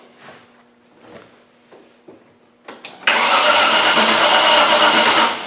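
A car engine fitted with a standalone reprogrammed ECU cranks in a few short bursts, then catches and runs at a steady, loud roar close by until the clip ends.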